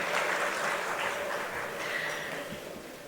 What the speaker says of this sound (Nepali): एकचोटि फेरि पनि जोरदार ताली एन्टायर ग्यालेक्सी 4K टिमको लागि